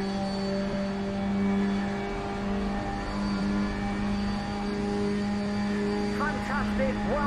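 Ginetta G40 race car engine in Assetto Corsa, on the Algarve International Circuit: a steady droning tone held at constant pitch, with a faint voice briefly over it near the end.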